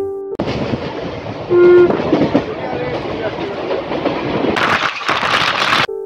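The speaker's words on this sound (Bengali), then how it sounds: "কোপাই পার করে ট্রেন এখন ছুটে চলেছে আহমেদপুর জংশনের উপর দিয়ে।" A passenger train runs over the rails through Ahmedpur Junction after crossing the Kopai river in Birbhum, a loud steady rumble with a brief horn note early on and a brighter rushing clatter near the end.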